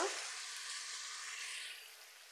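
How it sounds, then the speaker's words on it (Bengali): Spice masala for hand-mixed poya fish bhuna sizzles steadily in a pan as it is stirred, a close, even frying hiss that fades slightly toward the end with no talking. "আমি এখন একটু নাড়াচাড়া দিয়ে দিব।"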